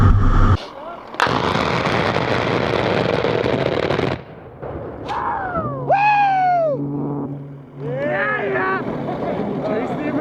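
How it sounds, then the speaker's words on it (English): An A-10 Warthog gun run, with long, loud bursts of rapid cannon fire followed by a jet roar sweeping past, and voices heard around it. "They're about to do a gun run."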